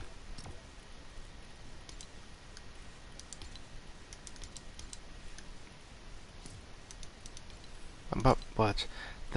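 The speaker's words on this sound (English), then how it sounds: "it's a loud keyboard when it's quiet" Clattering keystrokes on a loud computer keyboard at night, scattered light clicks over a hushed room, ending in a short rapid burst of louder typing.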